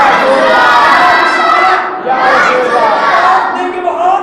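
Large crowd at an Urdu religious gathering roars a slogan response in unison, loud and dense, with a brief dip around two seconds before the massed voices surge again.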